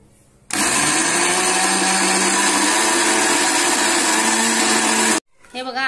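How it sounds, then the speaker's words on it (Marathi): A mixer grinder whirs loudly and steadily as it grinds soaked urad dal for medu vada batter, a close, continuous motor drone that starts abruptly, runs for about five seconds and cuts off sharply, followed by faint rustling. "आता आपण मिक्सरला लावू।"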